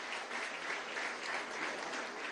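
An audience applauds a young man named Daniel Galarraga at a presidential event, producing a steady crowd applause that holds evenly throughout and sounds somewhat distant.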